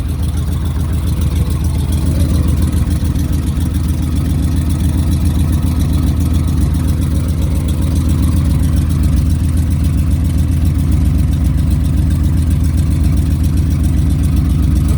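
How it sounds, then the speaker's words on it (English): A car engine idles with an exhaust leak at the manifold, a loud, steady low rumble with a fast, even puffing pulse running unbroken throughout, close by and with no voices. "Pretty sure my exhaust leak is getting worse."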